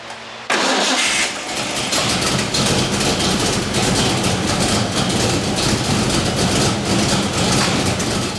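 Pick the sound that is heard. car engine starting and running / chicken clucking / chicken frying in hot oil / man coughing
car engine starting and running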